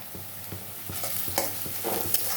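Onions fry in a pan with salt and turmeric powder added, giving a close, steady sizzle. Regular knocks and scrapes from a spoon stirring the mixture punctuate it.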